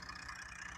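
A tractor engine runs steadily at a muddy roadside rescue of a heavily loaded trolley, a continuous low rumble with broad midrange roar, close and unbroken throughout.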